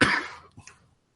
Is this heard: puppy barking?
no